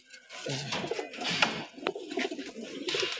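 Racing pigeons coo in a home loft, low murmuring calls repeating close by over a busy background of rustling and other bird sounds.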